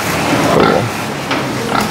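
Pigs of the SGF 5 breed, including breeding sows, grunt and snuffle close by over a steady noisy background, with a few short squeals standing out.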